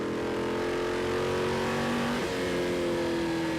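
A V8 ute race car engine roars at Winton Motor Raceway, a loud continuous growl with a pitch that dips and shifts as the throttle is balanced, heard close and alone with no talk.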